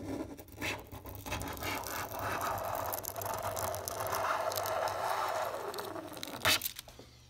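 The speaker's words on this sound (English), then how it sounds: "new razor blade, heat from the outside, and just keep working this away" Razor blade scraping old, stubborn tint film off a car window, a close, continuous gritty scratching with a ratcheting texture and one sharp scrape near the end.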